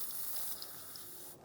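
Penetrating spray hisses from an aerosol can onto a rubber fuel-tank hose beneath a 1992–1996 Ford F-150, a close, steady spray with a few brief spurts that stops abruptly near the end.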